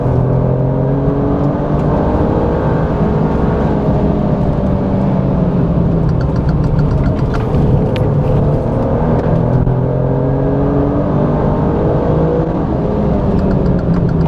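Alfa Romeo Giulia Quadrifoglio V6 engine on a track lap, loud and close from inside the car, a continuous strained roar with rising and falling revs through gear changes and a passage through a tunnel.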